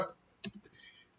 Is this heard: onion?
no